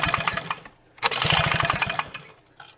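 A 1957 LMPCO chainsaw being pulled over by its starter cord, with two bursts of rapid rattling, cranking pulses, each about a second long and separated by a brief pause, loud and close, followed by a short clatter.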